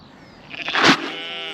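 A pregnant ewe, weeks from lambing, lets out a single loud, wavering bleat close by, with quieter flock noise around it.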